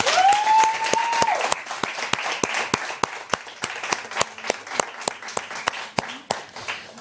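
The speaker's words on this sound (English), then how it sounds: "I believe they deserve a round of applause" Audience applause for students after they present their answers at a basic school quiz competition: steady, dense clapping from a crowd that carries on throughout, with a brief whistle-like tone near the start.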